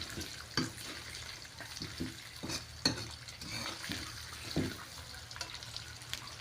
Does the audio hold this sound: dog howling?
no